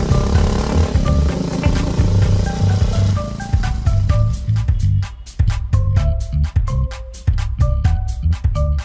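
A motorcycle accelerates hard: the engine note climbs loud and close through the gears, with a rapid pulsing rhythm toward the end as it keeps speeding along.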